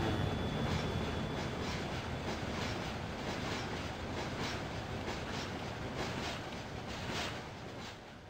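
A train in the video game Farming Simulator 2013 rumbles steadily past with rhythmic clickety-clack of wheels on track, loud and close throughout, easing slightly at the end.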